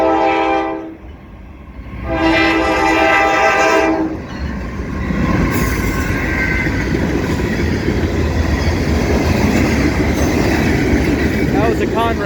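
A Conrail freight train rolls past a trackside spot in Ohio, sounding two long horn blasts before the steady rumble and clatter of cars takes over, loud and close throughout.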